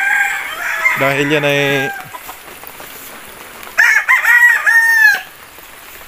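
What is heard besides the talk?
rooster crowing, Benedict Granada line chicken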